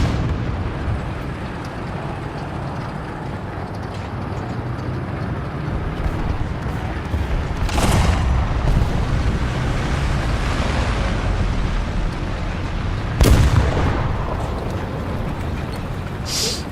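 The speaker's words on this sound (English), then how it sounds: "There is an SPAA shooting something." An SPAA anti-aircraft gun fires slowly in War Thunder, two heavy distant booms spaced several seconds apart over a constant rumbling battlefield wash.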